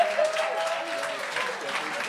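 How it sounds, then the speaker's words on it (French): Applause from the audience at a French-language talent show, a short burst of steady clapping with voices calling over it. "On applaudit jusqu'à temps qu'il parle dans le micro"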